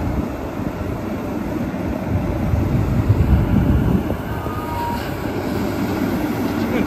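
Road machine and dump truck spreading a gravel layer for a tar and gravel road near Quartzsite, a continuous loud rumbling engine drone with broad noise that swells in the middle, no talk.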